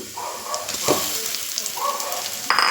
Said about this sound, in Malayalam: ആ കയ്പുള്ള നാരങ്ങയില്ലേ അതിനെ ഒന്നെടുത്ത് ഇതിലോട്ടൊന്ന് തട്ടാം